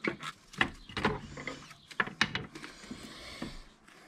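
Wrench clicks and metallic ratcheting as 13 mm transmission bracket bolts are undone on a VW Golf 2 during clutch and gearbox work, several short close knocks and scrapes in a quiet workshop.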